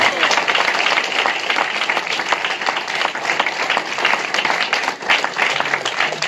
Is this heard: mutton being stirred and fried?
no